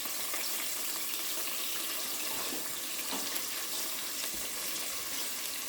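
Minced meat for empanadas sizzles and crackles steadily in a hot pan, a close, continuous hiss with faint scraping as it is stirred.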